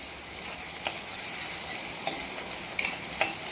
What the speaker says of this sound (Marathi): तर इथे टोमॅटो सुद्धा तेलामध्ये चांगला परतवून घ्यायचा।